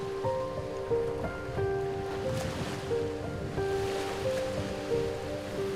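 Sea waves at a Thai island beach: a soft, steady wash of surf runs underneath a gentle melodic music track.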